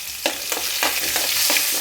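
Small shallots fry in hot oil for a fish curry, a steady loud sizzle broken by a few soft stirring scrapes at regular intervals.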